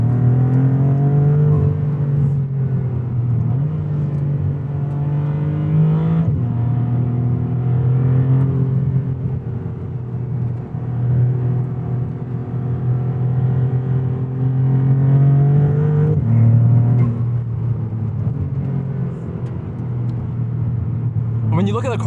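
A 2023 Maserati MC20 Cielo sports car engine hums and revs steadily, its pitch rising and falling in smooth sweeps, close and prominent with no other sounds.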